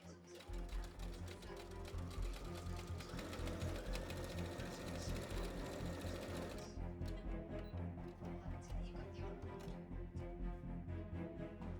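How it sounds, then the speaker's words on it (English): A sewing machine runs in a fast, steady mechanical rattle, stitching the long edges of a fabric witch-hat cone continuously before shifting to a slightly different, lighter whir. "back to the sewing machine to sew the long edges of the cone together"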